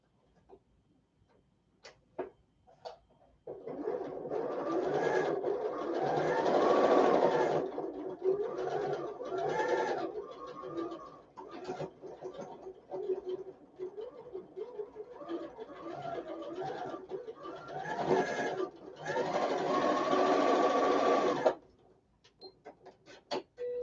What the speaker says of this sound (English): And then you're going to sew that 1/4 inch seam all down that side.